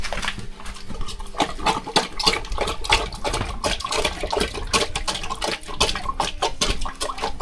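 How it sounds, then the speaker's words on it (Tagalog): A water buffalo drinks noisily on a farm in the Philippines, a continuous close stream of slurping, splashing and gulping water sounds with snorting breaths, no talking. "Ayan, iinom siya ng tubig."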